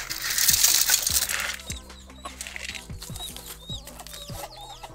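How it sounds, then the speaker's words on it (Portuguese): A rooster and hens cluck and call in short bursts while being fed in a rural farmyard in the morning, with feed rustling and scattering close by. "O nosso galo aqui."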